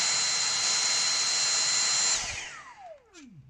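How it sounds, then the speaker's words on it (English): A Dyson Animal cordless vacuum cleaner runs in economy mode with a steady high-pitched motor whine, then switches off and winds down in a falling tone. "Now the Dyson has two modes. The first mode is economy,"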